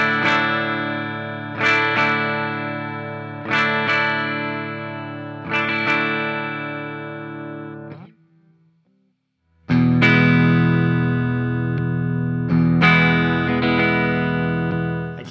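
A 2018 Gibson HP Les Paul Standard on its bridge pickup plays loud, distorted chords with a high-pass filter switched in and out: four ringing strums, a brief silence, then more sustained chords with fresh attacks.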